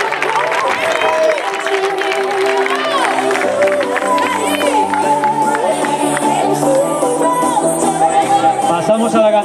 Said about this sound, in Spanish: Venga arriba y un fuerte aplauso.